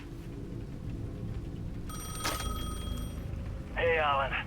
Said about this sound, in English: sentivo un telefono squillare